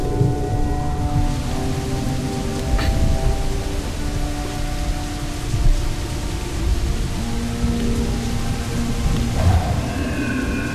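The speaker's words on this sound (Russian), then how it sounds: "И дождь пошел внезапно." Steady rain hisses and patters continuously in the video game Assassin's Creed IV: Black Flag, in Nassau, with a low rumbling bed beneath and a few brief tones scattered through; no voices.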